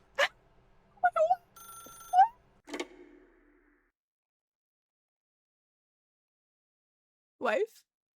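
A telephone rings in the video game The Stanley Parable, a few short bell-like trills spaced apart among scattered game sounds, clear against near silence, with a brief vocal sound at the end.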